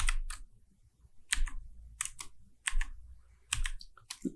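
Bursts of computer keyboard typing as code is written, quick clusters of crisp key clicks with short pauses between them, close and moderately loud, with no speech.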